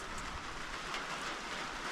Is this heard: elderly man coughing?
no